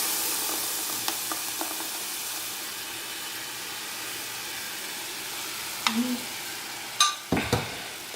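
Salsa and spaghetti being stirred in a hot pan give a steady low sizzle and hiss, broken by a few soft scrapes and clinks of utensil against pan near the end; no one speaks.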